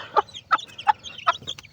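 An Aseel hen clucks in a steady series of short, sharp calls about every third of a second, close and clear on a farm, with faint background chatter of other birds.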